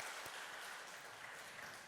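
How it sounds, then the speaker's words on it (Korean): A church congregation claps during a Sunday worship service, a short burst of soft, distant-sounding applause. "박수 한번 하실까요?"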